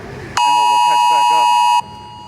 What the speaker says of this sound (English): I just had a curfew alarm on my phone